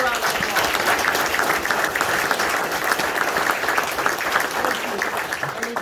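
A crowd applauds county officials, including the sheriff and coroner, at the Montgomery County, Illinois bicentennial ceremony, with sustained, dense clapping at a steady loud level and some voices mixed in.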